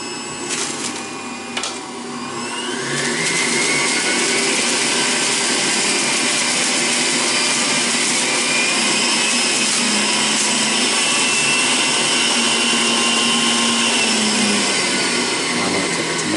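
An electric juicer grinds through produce, starting with a few brief clunks before its motor settles into a steady, loud, whining drone that continues unbroken.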